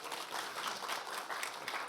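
Audience applause fills a ceremony hall for a Social Workers' Day commemoration, a dense, steady wash of many hands clapping at moderate loudness for about two seconds, with no voice over it.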